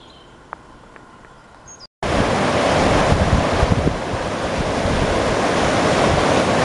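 The Lérez river flowing beneath the Roman bridge of Pedre in Galicia, a steady loud rush of water that starts abruptly after a brief quiet stretch and carries on continuously.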